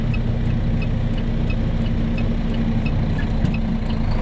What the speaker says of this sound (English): Listen to the engine.